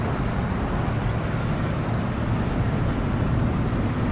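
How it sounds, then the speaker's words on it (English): Aircraft flying overhead in the WWII strategy game Steel Division II, a steady broad engine drone holding at constant loudness throughout, with no talk. "Damn planes."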